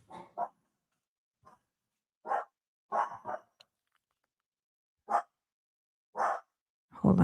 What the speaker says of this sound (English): Hold on. The dogs.